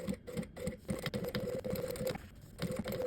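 Sewing machine stitching lining fabric onto an outer pocket piece, a close rapid mechanical chatter of needle strokes running in bursts with brief pauses.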